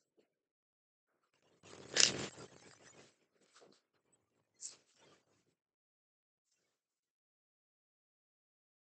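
A deck of Gilded Tarot cards is shuffled quickly in a quiet room: one dense riffling burst, then a few softer rustles and a short flick, close and otherwise silent.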